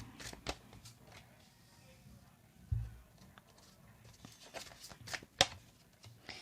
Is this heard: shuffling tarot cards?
yes